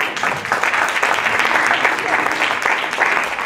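Steady, dense applause from a debating event audience greets a competing team, filling the clip evenly at close range without pause.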